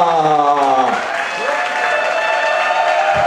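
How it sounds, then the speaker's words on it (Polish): Loud applause and cheering from a crowd for the band at a church anniversary celebration, a dense sustained roar of clapping with a voice and music fading out at the start. "Tak, tak, gromki oklaski!"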